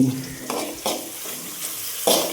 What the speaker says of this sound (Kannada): ಅಲ್ಲಾಡಿಸು ಅಲ್ಲಾಡಿಸು ಅಲ್ಲಾಡ್ಸು ಅಲ್ಲಾಡಿಸು ಚಂದಗೆ ಸ್ವಲ್ಪ ಬೇಯಬೇಕು